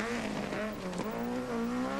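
A damaged rally car at the 1980 Welsh Rallysprint, its rear bumper and boot lid spoiler twisted, revs hard as it pulls away, engine note rising and falling with tyre noise, loud and steady with no talk.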